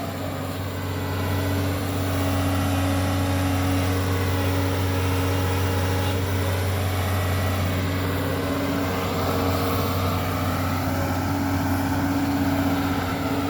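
A heavy diesel engine of a Doosan DX140LCA excavator idles steadily and close by, a low constant rumble with a faint whine on top, with no talk.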